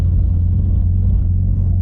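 A Toyota Altezza fitted with a swapped 5S/3S-GTE MR2 engine rumbles at a steady idle, close and loud, a deep continuous drone without revving.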